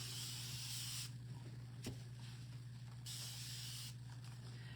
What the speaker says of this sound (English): I'm going to spray a little bit of water on this.